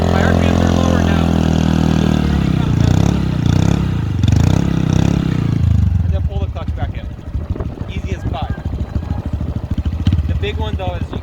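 A Honda Grom small motorcycle engine revs loudly, then drops to a low, uneven chugging putter at low RPM with clattering, someone talking over it.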